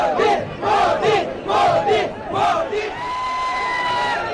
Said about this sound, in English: Chants of Modi, Modi echoed as an ecstatic crowd waiting for the PM caught his glimpse